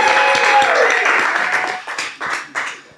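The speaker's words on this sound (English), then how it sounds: "Give him another round of applause." Applause from a small audience at a cannabis marketing panel, a burst of clapping that thins out into scattered individual claps as talk rises over it.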